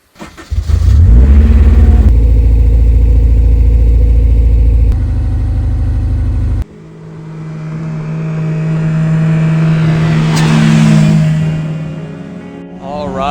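Honda S2000 sports car cruising on a road through a state park, a loud steady engine drone heard from inside, with a shift in pitch midway and the engine note swelling and easing again, no talk.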